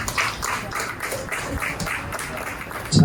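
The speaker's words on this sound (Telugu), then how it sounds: "గట్టిగా చప్పట్లు కొట్టండి అమ్మా." An audience clapping loudly, a run of rhythmic, evenly spaced claps at moderate distance, ending in a sudden louder burst.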